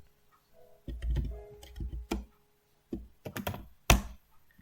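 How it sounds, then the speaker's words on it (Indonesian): Linux shell command being typed on a computer keyboard, with clusters of quick clicking keystrokes separated by short pauses, close and clear with no talking. "Lalu kita ketik cat"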